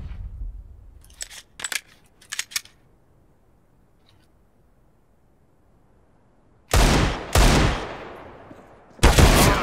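Gunfire in Counter-Strike: a few sharp, quick shots early on, then a quiet stretch, followed by two loud bursts of rapid fire and a final close burst.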